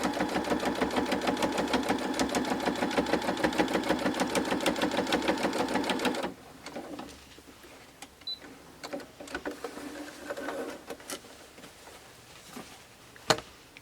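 A sewing machine runs fast, even stitches along the back of a stocking for about six seconds, then stops, leaving quiet fabric handling and a few soft knocks.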